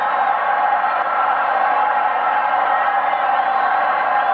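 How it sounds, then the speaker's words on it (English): Dense, steady roar of a stadium crowd at a 1984 New Jersey Generals versus Jacksonville Bulls football game, loud and unbroken throughout, with shouts and whoops blended into the wash and no clear voice standing out. "This crowd is so noisy."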